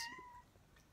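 A cat gives a single short, fairly high meow close by, fading quickly into quiet room tone.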